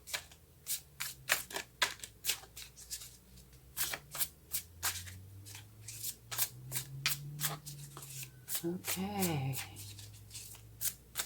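Tarot cards are shuffled by hand in quick, repeated riffling bursts that are close and crisp, with a brief spoken word partway through.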